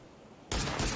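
Gunfire in the PUBG battle royale game: after a quiet half-second, a loud, dense burst of rapid shots erupts abruptly and keeps hammering to the end.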